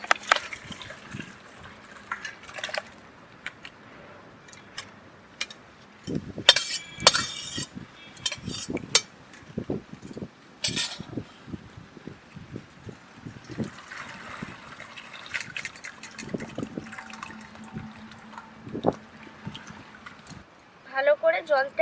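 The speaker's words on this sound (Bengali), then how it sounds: "জলটা ঝরিয়ে নিতে হবে।" Boiled raw potato slices for homemade chips being drained: water trickles and dribbles on and off, with metal pot and utensil clinks, and people talking throughout.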